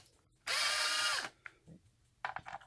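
A power drill spins out the screws on the battery cover of a lithium solar battery unit, one continuous whirring run of just under a second, close and loud, followed by a few quieter clicks and taps.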